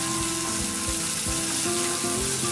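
Onions frying with salt in a hot pan for a Chettinad potato fry, a loud continuous close sizzle with crackling bursts and no talk.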